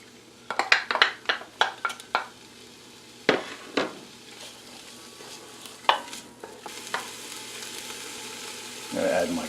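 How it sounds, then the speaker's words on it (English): Onions dropped into hot olive oil start to sizzle beneath a series of sharp stirring clacks and scrapes against the pan, with a soft frying hiss underneath. "Alright, I'm going to add my onions."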